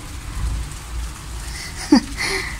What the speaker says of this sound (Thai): เปียกฝนด้วยฝนมาฟ้าร้อง